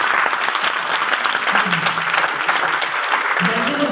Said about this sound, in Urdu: تالیاں بجائیں پہلے اپنے لیے بھائی